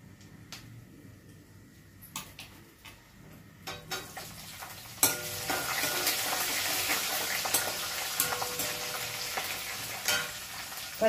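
Green chillies fry in oil for mango pulihora. A few scattered taps and stirring clicks come first, then the sizzle suddenly swells into a steady, bright crackle close by.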